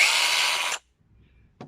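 A Parkside PGHSA 20 A1 cordless 20V chainsaw runs loudly up close for under a second, then cuts off abruptly into near silence, with a brief faint knock at the end.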